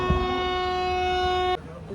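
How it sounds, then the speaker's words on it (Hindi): A loud, steady train horn blares from a train at New Cooch Behar station for about a second and a half, then cuts off abruptly, with faint background noise. "फाइनली हमारी गाड़ी ने भी हॉर्न दिया अभी"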